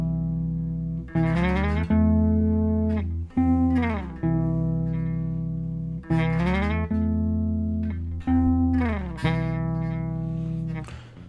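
A bass line from a song plays alone, a few plucked notes sliding between pitches in a loose, relaxed rhythm, each note ringing and decaying, close and clear, with no talking.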